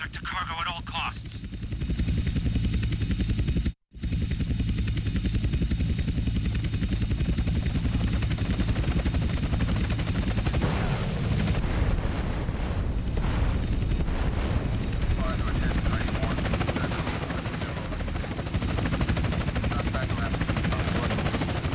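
Attack helicopters in Grand Theft Auto San Andreas roar continuously and loudly with gunfire and explosive bursts, one brief silent gap early on, while voices talk over the combat.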